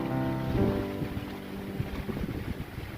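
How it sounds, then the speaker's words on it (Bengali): Strong wind buffets the microphone in a steady, heavy rush, with low roaring gusts and a faint tonal hum underneath. "প্রচন্ড হাওয়া দিচ্ছে গো"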